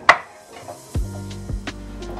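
A knife cuts through a red onion on a board, with a few distinct knocks of the blade against the board: one sharp tap near the start, then firmer chops about half a second apart, close and moderately loud.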